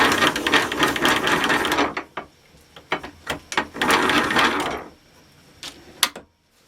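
Modified window shade cutter cutting 3/4 inch heavy wall NEPT tube: two bursts of loud, close grinding and rasping, separated by scattered sharp clicks and knocks, ending with a final click, no talking.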